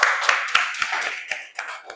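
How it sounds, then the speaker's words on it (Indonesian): Scattered hand claps from a small group of students in a classroom, a handful of sharp claps spread unevenly over two seconds with chatter in the background. "kita beri tepuk tangan dulu untuk kelompok 1."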